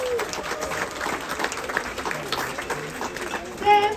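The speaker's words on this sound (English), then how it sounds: "Let's give him a round of applause" Audience on a cruise ship applauding the ship's butcher during a crew introduction: a steady wash of clapping from a crowd, with voices talking over it throughout.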